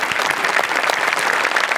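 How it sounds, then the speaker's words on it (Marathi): Dense, steady applause from a live audience after a comedy skit on a Marathi comedy show, loud and continuous throughout with no voices over it. "टाळ्या झाल्याच पाहिजेत"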